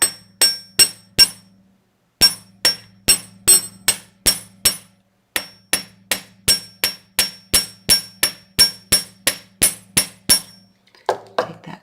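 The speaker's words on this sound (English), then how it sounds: "I'm just going to hammer right along here," A hammer flares out the tip of a wire for a strip-weave pendant in jewelry making, striking about two dozen sharp, close, metallic taps in a steady rhythm broken by one brief pause.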